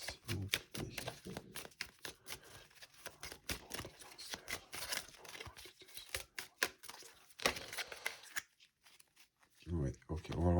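Tarot cards shuffled and drawn during a French horoscope reading, with quick riffling flutters and soft slaps close by, mixed with low-level talking.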